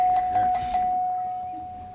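A game show bell on a 1970s television quiz set rings as a bright steady tone, with a few soft repeated strikes in its first second before it fades out over the rest of the moment.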